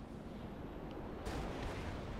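A video game explosion on a mega ramp stunt course sounds as a sudden broadband boom that starts partway through, over a steady low rumble of game noise. It is fairly loud and brief, with no talking.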